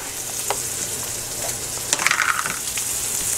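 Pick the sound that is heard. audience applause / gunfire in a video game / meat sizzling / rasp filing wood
meat sizzling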